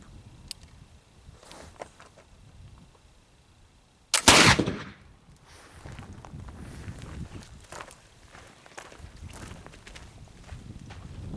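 One sharp, loud gunshot from a black powder gun loaded with homemade almond shell powder, booming out alone amid quiet outdoor surroundings, then trailing into rustling and movement.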